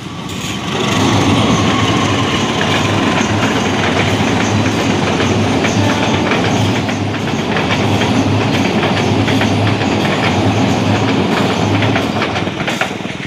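A local passenger train rumbles past close by on a double-track line near Rancaekek, wheels clattering steadily along the rails for the whole stretch, loud and continuous.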